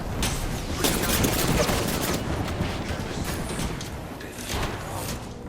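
Dense, continuous gunfire bursts from a team-based first-person shooter video game, with shotgun blasts and rapid shots layered loudly throughout, while faint voices talk in the background.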